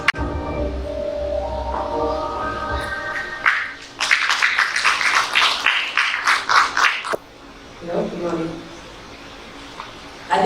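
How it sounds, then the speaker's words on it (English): Audience clapping rises in a dense burst of hand claps for about three seconds, then fades, with speech before and after the applause. "I think we need a louder hand clap than that"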